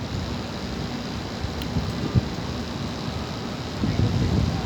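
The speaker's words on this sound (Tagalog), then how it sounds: "ang lakas ng hangin" Strong wind buffets the microphone in a continuous rumbling roar on a street corner in Al Nahda, with faint outdoor noise mixed in.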